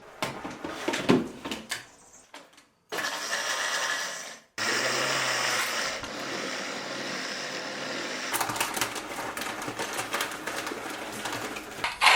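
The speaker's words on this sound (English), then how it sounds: "what I'm going to do is blend them all up and add them back into the chicken food" A blender whirs loudly as it chops food scraps meant for chicken feed, in two sustained bursts with a short pause between, set off by some clattering and handling noises beforehand.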